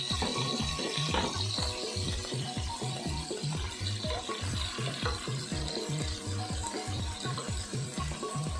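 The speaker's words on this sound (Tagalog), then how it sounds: "ilalagay na natin yung pinakuluan na natin na beef." Boiled bone-in beef pieces for a kaldereta stew are stirred in a pan. A rhythmic scraping of the spoon sits over a continuous, moderate sizzle and simmer.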